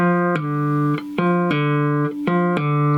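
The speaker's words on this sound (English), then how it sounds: "we hit the 3 with our slide at an angle, and we press down just enough to make the 0 come out loud" Slide notes on a fretless cigar box guitar playing a first-position blues lick: three plucked tones, each sliding up in pitch and ringing clearly, played solo and close with no talking.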